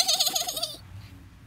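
A chickadee chirps in the Toca Boca video game, a brief run of bright, warbling tweets lasting under a second, then quiet ambience.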